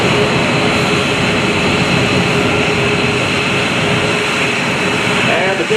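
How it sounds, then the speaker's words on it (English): A Short Tucano aircraft at an air base airshow, a steady loud engine roar that stays constant throughout, heard outdoors at some distance. "A nice look at this aircraft from across the pond, the short Tucano."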